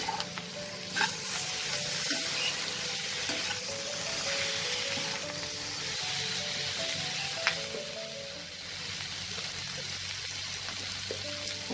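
Chopped tomato fries in a pan with spices for a Tangra fish curry, giving a steady close sizzle with occasional stirring scrapes and small pops.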